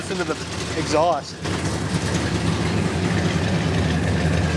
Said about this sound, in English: Come listen to the exhaust.